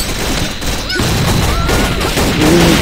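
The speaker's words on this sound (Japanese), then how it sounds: "無限発射。" Continuous rapid gunfire in the online shooter Paperman, a steady dense rattle of shots under game noise and faint music, loud and unbroken for the whole stretch.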